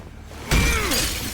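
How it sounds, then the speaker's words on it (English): Glass shattering as an axe smashes through a window in a firefighting video game, one sudden loud crash followed by ringing, scattering shards that trail off. "Break all the glass down"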